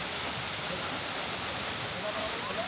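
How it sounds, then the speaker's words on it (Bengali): A waterfall at Jang Falls, beside a mountain road on a trip toward Sangti Valley, gives a steady, full rushing roar that holds evenly throughout with no break. "ঝর্ণাটা পড়ছে"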